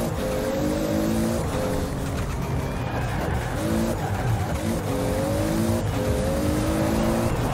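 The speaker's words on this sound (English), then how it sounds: "Listen to that turbo." Toyota Supra with a turbo in a Forza racing game: loud, continuous engine roar with rising and falling whines as it revs through gears, tire noise underneath, no talking.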